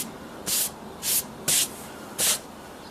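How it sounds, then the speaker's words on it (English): Super spray adhesive sprayed from an aerosol can while building a Fallout laser rifle replica: four short, loud, close hissing bursts, each about a fifth of a second, evenly spaced with brief pauses between, no talking. "Super spray adhesive. It works kind of well."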